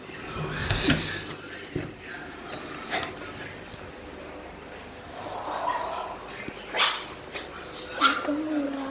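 A dog barks in several separate sharp bursts spread out over the span, moderately close, with some whimpering sounds and a person's voice heard at times.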